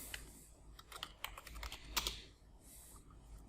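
Password being typed on a computer keyboard during a Kali Linux setup, a quiet, close run of irregular key clicks with a few firmer taps, no talking.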